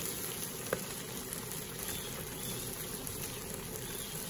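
Quiet, steady sizzle of barbecue-sauced chicken on a grill over foil just after being flipped, a continuous low crackle with one brief tap early on.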